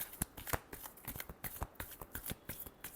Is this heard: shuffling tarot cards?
yes